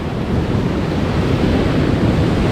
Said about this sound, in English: And the big waves actually are quite close to the beach.